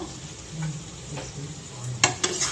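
Spicy chicken kosha frying in a pan as it is stirred, with a soft sizzle under scraping and a few sharp clinks of a utensil against the pan near the end.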